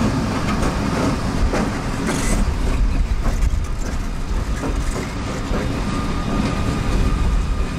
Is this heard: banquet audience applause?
no